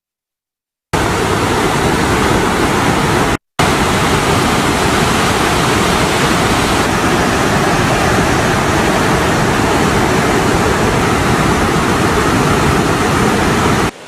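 Water pours from the open sluice gates of Rajangane Reservoir into the Kala Oya river, a loud, dense, unbroken roar of rushing flow heard close up, briefly cut by a short gap before resuming.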